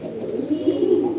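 A Raj Golla pigeon coos continuously and close up, a low steady burbling call running without pause and with no talk.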